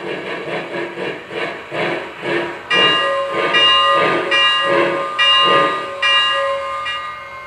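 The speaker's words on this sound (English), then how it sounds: "Go ahead and slow this locomotive down and stop it." Lionel Legacy 4-6-2 Pacific model steam locomotive slowing to a stop, with rhythmic chuffing that fades into a steady steam hiss broken by repeated bell-like ringing tones.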